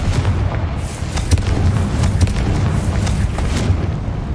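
Explosive Confringo spell blasts in Hogwarts Legacy on hard mode, a dense run of booming impacts and crackling bursts layered over a constant low rumble, loud and close throughout.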